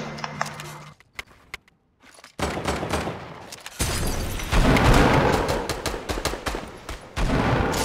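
Rapid gunfire from a pistol in the video game Fortnite, a loud cluster of sharp shots and bursts coming after a short quiet gap, close and dense, with no talking.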